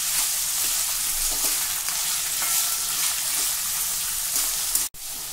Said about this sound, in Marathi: ज्या प्रकारे आपण बटाटा पोह्यांसाठी बटाटा परतून घेतो त्याच प्रकारे हे सर्व भाज्या आपल्याला परतायच्या आहे.